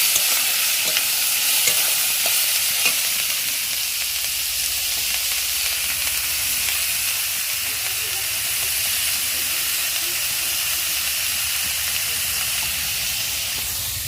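Onion frying in a pan gives a steady, fairly loud hiss and sizzle. A few faint stirring scrapes sound over it, and no one talks.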